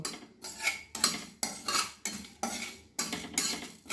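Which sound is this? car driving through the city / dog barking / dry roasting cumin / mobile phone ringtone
dry roasting cumin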